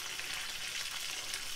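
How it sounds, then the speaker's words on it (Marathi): Red chillies, curry leaves and garlic sizzle in hot oil as a tempering for dal, a bright, steady hiss that fills the short stretch without interruption. "हे आपण व्यवस्थितपणे फोडणी दिली"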